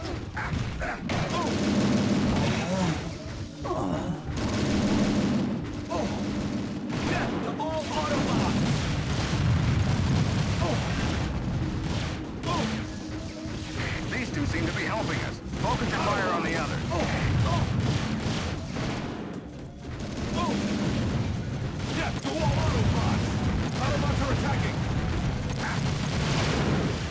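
Dense, continuous gunfire and explosions from a Transformers Autobots game on Nintendo DS, loud and relentless, with booming blasts layered over a busy game soundtrack.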